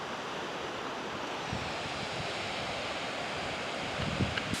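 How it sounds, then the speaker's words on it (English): Steady broadband roar of a waterfall fed by meltwater from the mountain lake Narda Devi near Sharda, continuous and loud like surf, with light wind buffeting and a few low bumps toward the end. "we decided to come to the foot of the waterfall"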